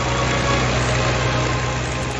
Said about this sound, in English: the Lancaster's key attribute, the 4 legendary Merlin engines mounted on its wings